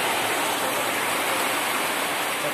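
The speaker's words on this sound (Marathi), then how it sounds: "आता बघा काय पाऊस आहे" Heavy monsoon rain pours down in a town street, a dense, constant hiss of steady downpour with no pauses and no voices.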